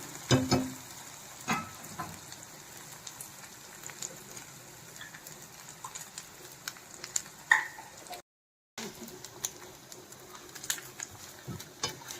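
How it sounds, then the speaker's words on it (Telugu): Dried prawns frying in a pan until red, a soft steady sizzle with a few brief stirring clatters; faint and continuous, with a short break near the end. "ఎండ్రాయిలు ఎర్రగా వేయించుకోవాలి"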